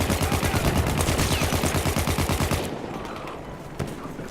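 Rapid automatic gunfire from a fast-firing weapon in the video game Battlefield 1, a dense rattling burst of shots that stops abruptly partway, leaving quieter game ambience and a lone later thud.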